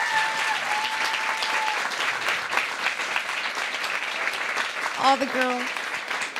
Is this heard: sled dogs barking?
no